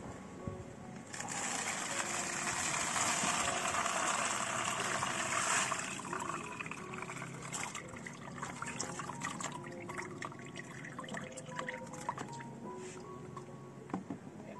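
Water pours and trickles through cocopeat growing medium as it is rinsed, first in a steady loud rush for several seconds and then in a lighter, irregular dribble and splatter.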